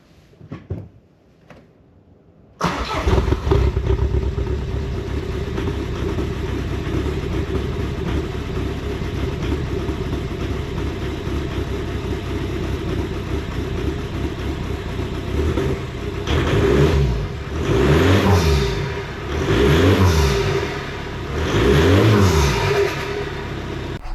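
A diesel engine with no glow plugs runs loud and close, its rough idle missing and coughing, then rising in several uneven revving surges toward the end.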